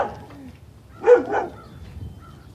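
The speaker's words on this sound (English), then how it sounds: "I don't mind being barked at by dogs because they're doing their job" A dog near an old house gives a short double bark, close and moderately loud, followed by quieter rustling in the background.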